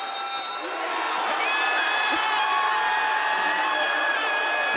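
A loud, sustained roar from a basketball crowd fills the arena during a tight Portland men's game against VMI, rising slightly and holding steady as a commentator talks over it.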